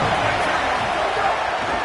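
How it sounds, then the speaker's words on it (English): A college football stadium crowd roars as a dense, steady wash of massed voices, loud and unbroken for a couple of seconds. "This crowd trying to make life miserable for this offense."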